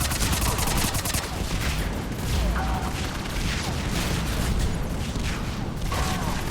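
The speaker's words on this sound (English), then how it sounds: "I'm not sure if you can actually get hit by these artillery strikes" Artillery strikes in the Mass Effect 3 video game pound away in a loud, dense barrage of booms and gunfire that runs without a break, with battle noise filling the whole stretch.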